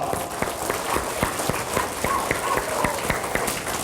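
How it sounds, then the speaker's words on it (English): A school audience at a Children's Book Week event claps, with distinct sharp claps standing out over softer background clapping in a loose, uneven rhythm. "Wallace, and all of Weslaco School District a big round of applause"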